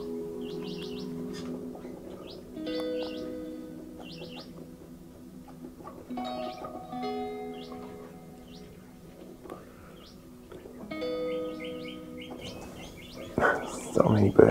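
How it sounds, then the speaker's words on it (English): Several red wattlebirds call in the Australian outback, sharp harsh chirps scattered over a low steady hum, with a sudden louder burst of calls and rustling near the end. "Oh look, there's a few red wattlebirds coming in."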